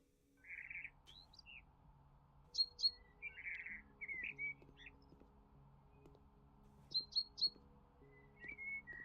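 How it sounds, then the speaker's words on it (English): In-game birds in House Flipper chirp and tweet in short clusters of bright whistled calls, loud and close over a quiet hum, with repeated bursts of several quick notes spread through the scene and no talk. "Those birds are so loud."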